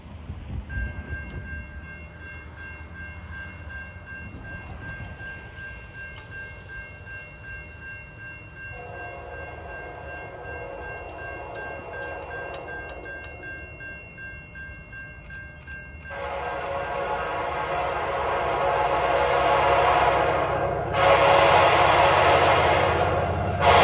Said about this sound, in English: here's a set of 2 in control of Piedmont Train 75